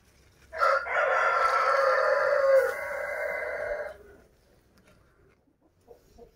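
A village rooster gives one loud, close, drawn-out crow lasting about three seconds, followed by a few faint clucks from chickens before the yard goes quiet.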